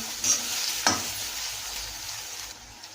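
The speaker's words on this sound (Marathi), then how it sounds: "कापून घेतलेले पातीचे कांदे 2 मिनिटापर्यंत मिरची व कांदे तेलावर परतवून घ्या।" Spring onions and green chilies sautéing in oil on medium heat for zunka, a quiet steady sizzle with a couple of brief scrapes from a stirring spoon, close by.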